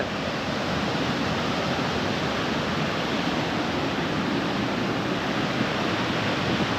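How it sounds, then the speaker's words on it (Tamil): Loud, steady rush of fast-flowing, foaming stream water in the Javadhu Hills, a dense continuous roar close by with no pauses. "தண்ணி பாருங்கள் நல்லா ஸ்பீடாக வருது"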